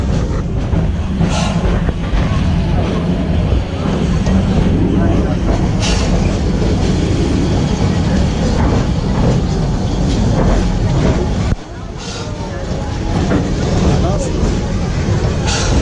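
A tour train at Busch Gardens rumbling and clattering along steadily, with voices talking over the continuous running noise.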